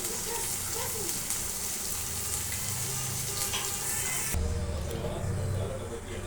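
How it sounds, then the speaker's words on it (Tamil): Ginger garlic paste sizzles and crackles in a hot pan, a steady close frying hiss with some stirring, briefly shifting in texture partway through. "இஞ்சி பூண்டு பேஸ்ட் ஆட் பண்ணிவிட்டு ஸோ கொஞ்சம் நல்லா வதங்கிடுச்சு"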